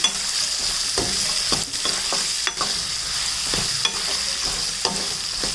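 Raw groundnuts and curry leaves fry in a pan with mustard seeds, giving a close, continuous sizzle. Intermittent stirring clicks and scrapes punctuate it, and no voices are heard.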